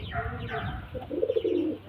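Old-generation pigeons being shown by a keeper in Bamungachhi give a low, throaty coo that swells near the end, heard close up beneath a voice talking over it.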